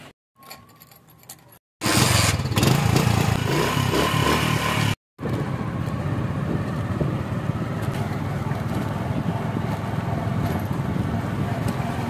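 Motorcycle taken out for a ride to a local market: after a quiet start and a brief break, a loud engine roar mixed with rushing wind noise carries on steadily for about ten seconds.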